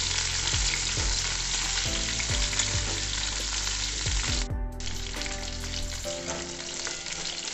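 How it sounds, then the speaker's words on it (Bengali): Cauliflower and carrot pieces frying in oil in a kadai, a loud continuous sizzle broken by repeated scraping stirs and knocks of the spatula, up close. "গাজরগুলো আমি কিছুক্ষণ ভেজে নেব।"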